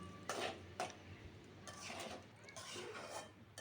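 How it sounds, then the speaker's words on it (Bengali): Rice stirred while frying in ghee in a pot for Dhakaiya beef biryani, giving faint, scattered scraping and clinking of a spoon against metal, a few sharper knocks standing out over a quiet background. "দিয়ে আবার আমি কতক্ষণ নাড়তে থাকবো। চালগুলো আমি ভালো করে ভেজে নেব।"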